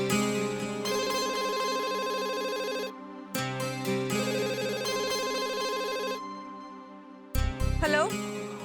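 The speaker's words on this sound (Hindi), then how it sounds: "ट्विंकल ने फोन लगा, लैंडलाइन पर फोन करती हूँ।" A telephone ringtone, apparently a landlord line called from a drama scene, plays loud and melodic in repeated bursts with short pauses between, then a brief low thump and rising tone near the end.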